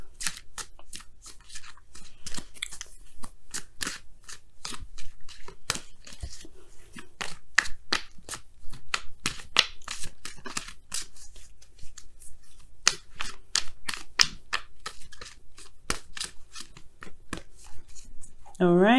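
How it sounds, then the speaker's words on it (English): Oracle cards being shuffled and pulled in a weekly reading, a long run of crisp repeated flicks and riffles close up, interspersed with quiet rustling and handling under and between stretches of talk. "let's go ahead and pull your Wisdom of the Oracle card"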